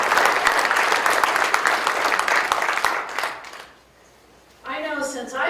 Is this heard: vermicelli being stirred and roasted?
no